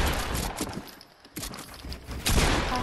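Rapid bursts of video-game gunfire crackle throughout, dipping briefly before a louder volley returns near the end, with dense overlapping shots and no clear speech.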